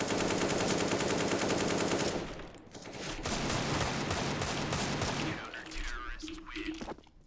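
Rapid automatic gunfire sprays in a video game shooter, loud and sustained in dense bursts, pausing briefly and then resuming, with a voice talking over the later part.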